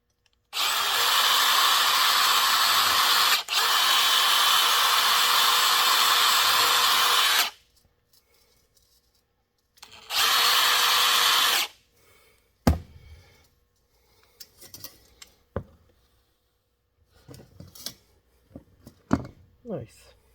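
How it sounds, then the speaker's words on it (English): A power drill boring into a part held in a makeshift holder runs loud and steady for about seven seconds, stops, then gives a second short burst, followed by scattered clunks and handling noises. "holding this and drilling it."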